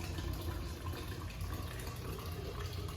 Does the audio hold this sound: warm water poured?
yes